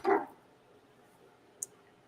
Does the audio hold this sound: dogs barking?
yes